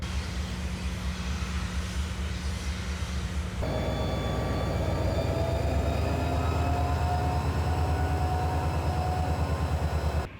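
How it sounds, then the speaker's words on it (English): A train in Florida approaching and passing close by, a heavy low rumble that swells into loud rolling wheel clatter with high squealing tones, steady for several seconds before cutting off. "There's a train coming right now."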